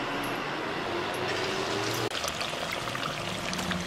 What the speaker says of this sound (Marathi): तेल गरम झालंय. आता ही पुरी तेलात सोडून